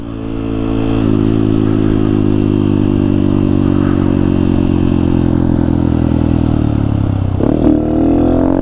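A Honda Grom motorcycle being ridden hard, its loud close engine holding a high buzzing rev with slight pitch swings, then dropping and revving sharply near the end, no speech.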